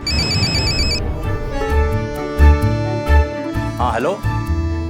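A telephone rings with an incoming call in an Indian crime-drama scene, a repeating electronic ringtone with tonal pulses, loud and close, over background music and a voice.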